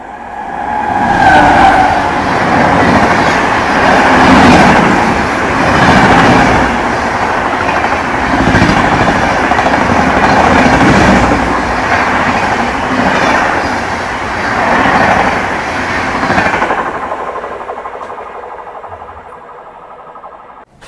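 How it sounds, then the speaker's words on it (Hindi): A train rolls past on the neighbouring line beside the stopped Shridham Express near Bijrautha station, a loud continuous rumble with rhythmic wheel beats for about seventeen seconds before cutting to near quiet. "ये भाई साहब बगल वाली लाइन पे हो रही है एक ट्रेन की क्रॉसिंग"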